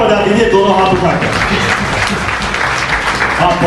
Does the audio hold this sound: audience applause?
yes